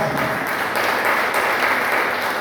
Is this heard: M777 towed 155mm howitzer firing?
no